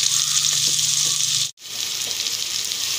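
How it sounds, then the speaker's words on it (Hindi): Onions frying in hot oil in a cooking pot give a loud, steady sizzle that drops out sharply for a split second midway, then resumes as before. "सबसे पहले हम पतीली के अंदर ऑयल गरम करेंगे, उसके बाद हम ये प्याज डालेंगे।"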